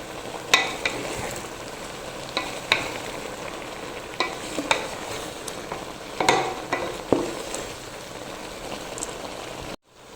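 Onions are stirred into a simmering pot of breadfruit, red cowpeas and beef head stew, with a steady bubbling sizzle and a series of sharp scraping clicks of the spoon against the pot, close by and alone.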